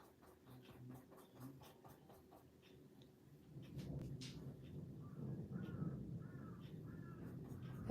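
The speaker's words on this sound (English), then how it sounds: "The crows are definitely mad about the thunder." Crows caw in a series of sharp, repeated calls while a low rumble of thunder from an approaching storm builds underneath, growing louder toward the end.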